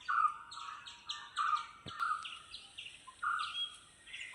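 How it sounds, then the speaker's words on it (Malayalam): A small bird chirps repeatedly in quick, high-pitched phrases with brief pauses, fairly clear against a quiet background. "ദേ ഒരു കിളി."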